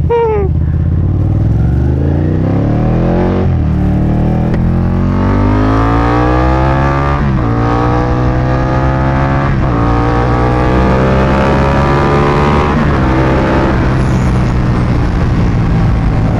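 A Ducati 959 Panigale motorcycle engine roars loud and close under a rider, revs climbing in repeated sweeps broken by sharp gear-change dips as it pulls hard through several gears.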